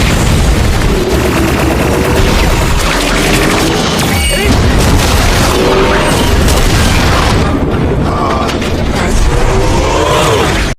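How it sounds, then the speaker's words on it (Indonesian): An aircraft's plasma-cannon bombardment in the film G.I. Joe: The Rise of Cobra, a relentless barrage of loud booming blasts and crashing impacts rolling together for the whole stretch with no pause. "mereka dibombardir oleh pesawat tersebut yang memiliki tembakan plasma"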